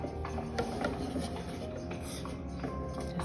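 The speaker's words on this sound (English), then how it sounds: "we're going to go ahead and whisk that together" A whisk scrapes steadily around a bowl, mixing dry baking ingredients, salt and baking powder, for sugar cookies. The rubbing, rasping strokes are continuous, close and moderately loud, with no talking.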